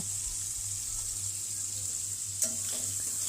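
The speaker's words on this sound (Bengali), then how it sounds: "পেঁয়াজগুলোকে একটু হালকাভাবে আলতো গোল্ডেন ব্রাউন হওয়া পর্যন্ত ভেজে নেবো।" Onions fry in a pan until light golden brown for a chicken dish, giving a steady, fairly faint sizzle under a low hum, with a single small clink near the end.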